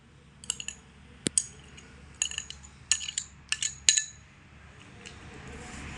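Metal spoon clinking against a bowl while mashed potatoes, finely chopped onion and spices are stirred together, a series of light, sharp clicks and taps in irregular bursts, close and fairly quiet.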